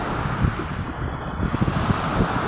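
Ocean waves at Dolomite Beach along a city baywalk, a steady broadband wash of surf mixed with heavy wind buffeting the microphone, loud and continuous with no talking.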